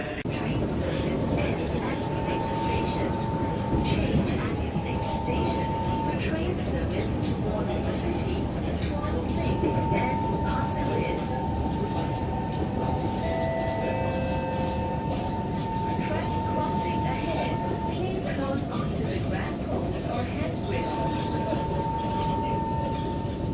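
Metro train running through Singapore, a steady rumble with sustained tonal whine and brief high chimes or beeps, under people talking nearby.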